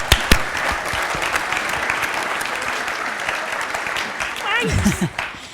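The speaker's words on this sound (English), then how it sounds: "Now, give her a clap, give her a clap." Sustained audience applause from a lecture crowd fills the room, steady and dense throughout, with a brief burst of voices and movement near the end.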